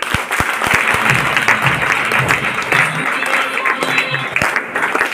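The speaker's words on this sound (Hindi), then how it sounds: "सब लोग एक बार जोरदार ताली होना चाहिए" A crowd at a business motivational seminar breaks into loud, vigorous clapping, sustained and close, with some voices mixed in beneath the applause.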